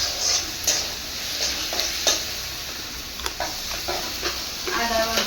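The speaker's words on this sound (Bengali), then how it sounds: "এবারে মাংসের মশলাটা ভালোভাবে কষাচ্ছি।" Meat masala stir-fried in a pan, a continuous sizzle punctuated by repeated scraping and clinking of a spatula against the pan, close and moderately loud.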